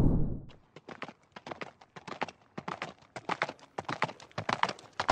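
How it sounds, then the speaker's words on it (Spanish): Horse hooves clip-clopping in a quick galloping rhythm, crisp and close, a steady pattern of sharp beats that builds slightly in loudness, with no voices. "Se escucha el galopar de un caballo a ritmo de güira y tambora."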